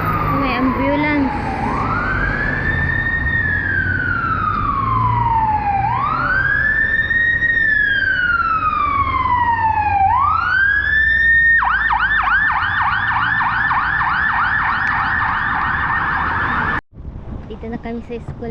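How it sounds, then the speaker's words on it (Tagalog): Ambulance siren passing on a city street, loud and near: several slow rising-and-falling wails followed by a rapid yelping warble, then cutting off abruptly, with traffic rumble beneath. "May ambulance."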